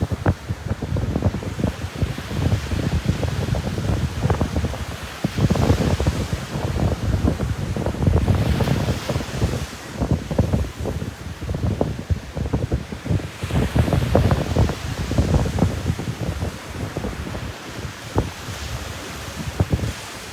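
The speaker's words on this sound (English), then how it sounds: "Welcome to the beach." Waves and gusty wind at an ocean beach, with steady rolling surf and rumbling wind buffeting the microphone throughout, loud and continuous with no voices.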